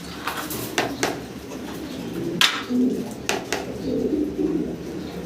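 Pigeons coo in a pigeon house, low soft calls repeating close by in short bursts, with a few sharper clicks and rustles around them.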